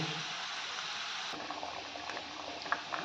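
Khichuri bubbling in a pot on a rainy day, a steady close hiss of boiling with soft pops and gurgles throughout, no voices.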